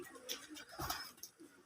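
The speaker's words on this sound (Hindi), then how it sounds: "बिताली कबूतर" Bitali pigeons coo softly in a quick, faint run of murmuring calls, fairly close but quiet, with no talk.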